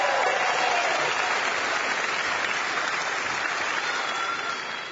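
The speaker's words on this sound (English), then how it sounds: "Let's give them a round of applause for that." A church congregation at First United Methodist in Fort Worth applauds its clergy and staff, loud and dense, holding steady before easing slightly at the end.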